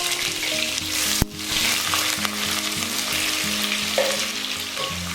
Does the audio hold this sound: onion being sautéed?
yes